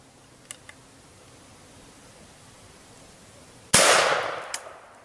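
A single sharp report from a small calibre firearm at practice cracks out loud and close after a quiet stretch, ringing briefly as it decays; a couple of faint clicks come earlier.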